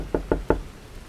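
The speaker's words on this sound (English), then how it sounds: "And then a sharp knock on the door." Three sharp, evenly spaced knocks on a door, close and crisp, with nothing else around them.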